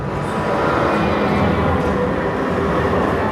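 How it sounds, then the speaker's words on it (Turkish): Steady rumble of the Eminönü tram in Istanbul rolling along its rails, loud and continuous with a low mechanical drone and no voices. "Eminönü tramvayı."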